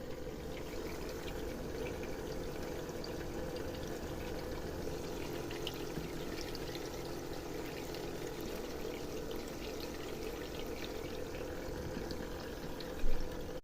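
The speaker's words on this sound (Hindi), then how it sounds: "इसके अब वाटर पंप को हम चला करके देखते हैं" A small water pump circulates water inside a homemade tin-container air cooler, giving a steady, close trickling and pouring wash with a constant motor-like hum and no speech.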